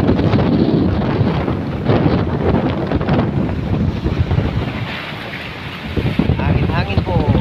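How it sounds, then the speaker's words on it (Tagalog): Strong sea wind buffets the microphone on a rocky coastline in Ilocos Norte, a loud continuous roar with surf churning beneath, while someone talks over it. "Hangin po."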